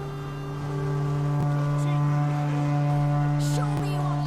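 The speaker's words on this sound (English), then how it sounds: "You'll start when I sound the horn." A deep, sustained horn blast signals the start of a foot race in The Witcher 3, holding steady with harmonic overtones over low ambient game sound and distant background noises.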